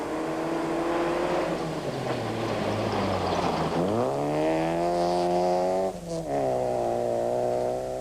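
A factory Daewoo rally car at the 1996 Castrol Rally drives past with its engine droning loud and close. The pitch sags, then climbs steadily as it accelerates, with a brief dip near the end.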